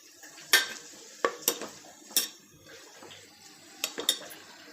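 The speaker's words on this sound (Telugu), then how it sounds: "ఇలాగా అల్లం వెల్లుల్లి పేస్ట్ వేసుకున్నాక దాని పచ్చివాసన పోయే వరకు మనం బాగా" Ginger garlic paste frying in a pan for goat head curry, a quiet sizzle punctuated by several sharp metallic clinks and scrapes of a spoon against the pan, close and irregular.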